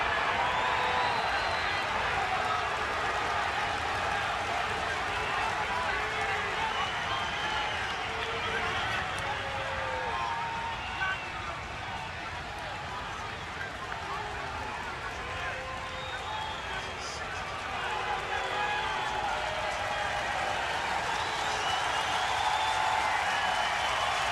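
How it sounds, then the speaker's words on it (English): A baseball crowd at an MLB game gives a steady, sustained round of applause and cheering as a manager leaves the field after being ejected, with a commentator's voice over it. "Ricky gets a big round of applause as he leaves"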